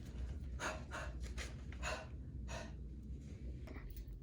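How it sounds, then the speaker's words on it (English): Several forceful breathy huff-cough exhalations, a breathing exercise for emphysema, pushed out one after another with short pauses between, close and clear against a low hum. "And then we could do the huff cough."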